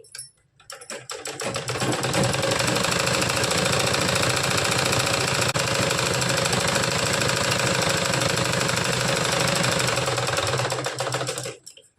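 Sewing machine stitching a blouse, running steadily and loudly for about ten seconds with a continuous fast mechanical whirr, starting and stopping cleanly at the edges, with no talk over it.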